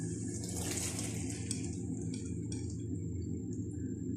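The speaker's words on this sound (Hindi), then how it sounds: "मैं सिर्फ इसमें 1 कप पानी डालूंगी" Water poured into fried spices and soaked white urad lentils in a home kitchen pot: a steady, faint splashing pour with a brief hiss near the start, no talking.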